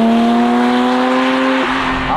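A Porsche 911 engine with a manual gearbox pulls hard and close, its steady tonal drone rising through the revs and then dipping briefly as it shifts.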